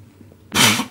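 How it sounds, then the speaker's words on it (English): A man gives a single loud, harsh cough up close after a moment of near silence. "Seems I can't smoke or laugh now without coughing."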